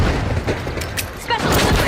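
A frag grenade blast in the arena shooter THE FINALS, loud booming explosions and gunfire-like bursts dense through the brief moment, close and full.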